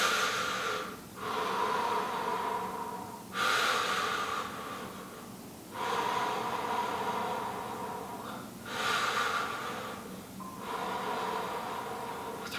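Deep, audible breaths during a seated fascia stretch with the upper body rotated, five or so long airy cycles close to the mic, steady and unhurried, with no voices.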